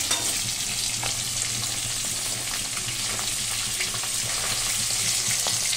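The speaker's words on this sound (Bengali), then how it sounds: "এই যে 3 পিস মাছ আমি ভাজা করতে বসিয়ে দিয়েছি।" Three pieces of fish rubbed with salt and turmeric fry in a pan with a steady, even sizzle and crackle throughout.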